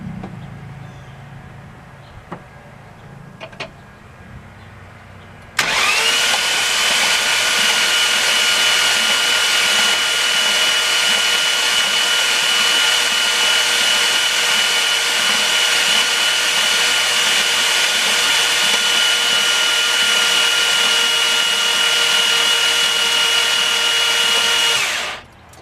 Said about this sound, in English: we're about to turn the car over and blow all the coolant out of the cylinders